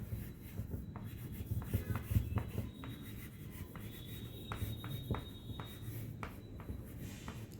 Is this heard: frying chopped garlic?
no